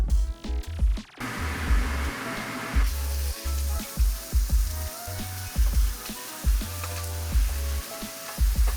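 Ground beef sizzles in a hot pan with a loud, continuous crackle, and low thumps and knocks from handling the pan and meat recur throughout, close and with no one talking.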